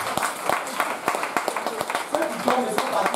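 A church congregation claps to acclaim the Lord, giving sharp, fairly regular hand claps in a steady rhythm while a voice speaks over them.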